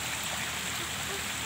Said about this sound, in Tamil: இங்க பாருங்க தண்ணி வழிஞ்சு போகுது